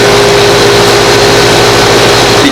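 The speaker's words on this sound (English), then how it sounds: "Because the fan spins when I give it a little jump start" An air conditioner fan motor spins steadily after being given a push start, a continuous loud mechanical hum with a strong low tone and broadband whir, alone without talk.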